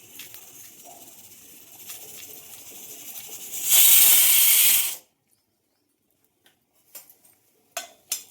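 A half teaspoon of oil tempering with mustard seeds, dried red chillies and urad dal sizzles in a loud hissing burst of about a second, then fades to quiet with a few faint crackles and clicks.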